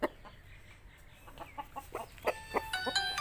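Aseel rooster making a series of soft, rhythmic clucks, close and fairly quiet, with some faint background noise.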